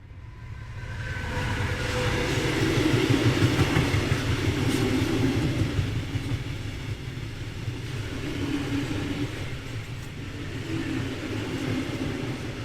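A train rolls along the rails with a steady low rumble and rhythmic clickety-clack, loud and continuous throughout, swelling slightly in the middle, with no voices.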